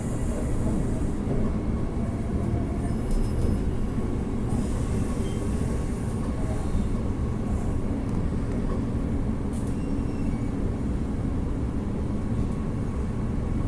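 A Perth suburban train bound for High Wycombe rolls along with a steady, loud, continuous rumble and wheel noise, heard from on board, without talk.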